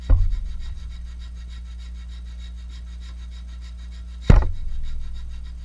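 A flat file rasping across a metal blade during final sizing, two short strokes about four seconds apart over a steady low hum, no talking.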